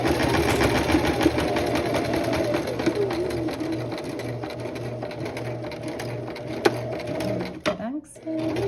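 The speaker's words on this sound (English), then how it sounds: "I'm gonna sew over it slightly and then back stitch" A sewing machine runs steadily over bias tape at a garment neckline, close and loud, with a short back stitch and the motor halting near the end.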